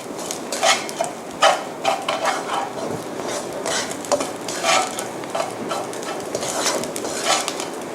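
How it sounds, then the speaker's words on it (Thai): Sugar and salt are stir-fried in a pan for a Thai sticky rice dish with shrimp topping, giving steady close scraping and clinking of a spatula against the pan in an irregular rhythm with no talk. "ทีนี้ก็ผัดจนน้ำตาลและเกลือละลายนะคะ"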